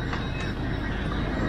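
A train runs on rails late at night, making a dense, constant low rumble with faint clatter over the track, close and unbroken throughout.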